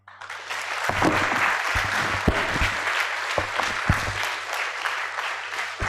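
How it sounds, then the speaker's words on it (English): An audience claps after a distinguished alumni lecture: sustained, fairly loud applause with sharp individual claps standing out, rising quickly and holding steady throughout. "Let's keep the applause coming"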